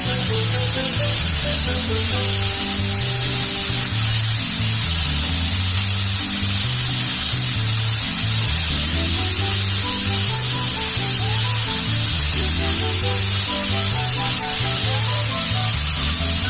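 Boiled potatoes fry with tomato in a pan, giving a steady, loud sizzle that runs unbroken throughout.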